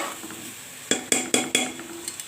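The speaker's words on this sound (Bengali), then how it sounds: "এটার সঙ্গে দিয়ে ভালো করে নেড়ে চলে নিচ্ছি" A utensil stirs red masoor lentils with spinach and mixed vegetables in a cooking pot, knocking against the metal in four sharp, ringing clanks in quick succession, followed by a few faint taps.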